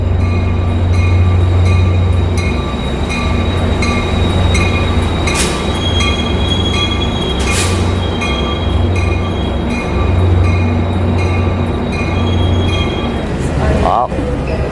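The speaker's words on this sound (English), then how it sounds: "I hear a train revving up" A train idling and revving at Chicago Union Station, a loud, deep engine rumble with repeated low surges, sharp metallic screeches and clanks, and people talking nearby.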